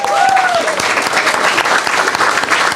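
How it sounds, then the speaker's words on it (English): Loud applause from an audience at a district court judge candidate forum fills the whole stretch as steady, dense clapping, with a faint voice briefly audible early on. "how about a round of applause for Dennis and Gary and Jackie?"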